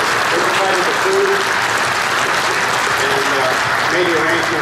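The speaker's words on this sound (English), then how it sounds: "So if I could ask a round of applause for them." An audience applauds inside an airport hangar at Lorain County Airport, giving dense, steady clapping that stays loud for several seconds, with a few voices murmuring underneath.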